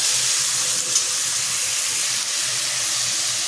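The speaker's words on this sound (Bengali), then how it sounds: "আলুগুলো লাল লাল করে ভেজে নেব।" Potatoes coated with salt and turmeric fry in white oil in a wok, giving a steady, loud, close sizzle that hisses continuously with no talk.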